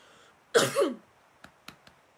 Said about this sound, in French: vous allez m'entendre tousser